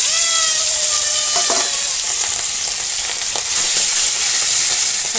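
Pieces of pangas fish hit hot oil, producing a loud, dense hiss of frying that stays steady throughout, with a few brief clinks of a utensil near the start and no voices.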